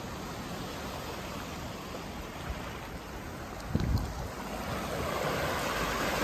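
Sea surf on an untouched Bahamas shoreline, a steady broad wash of waves with wind noise over the microphone and one brief louder splash midway, no voices.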